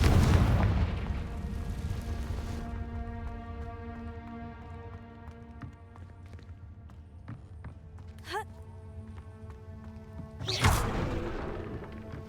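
Confringo spell blasts from the video game Hogwarts Legacy, with a loud booming explosion opening the stretch and another sharp blast near the end, a lingering tonal hum of game music in between and a brief whoosh before the second burst.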